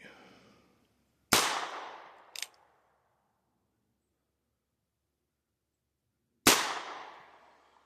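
Two sharp .22LR gunshots from a Chiappa 1873-22 single-action revolver with antique finish, fired outdoors several seconds apart, each a loud crack with a short decaying tail, the first followed by a brief metallic click.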